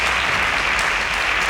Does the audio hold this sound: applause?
yes